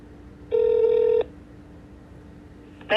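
A phone call to a county courthouse clerk's office: a single steady ring tone sounds for under a second, then quiet line hiss, and a brief burst of an automated greeting begins at the end.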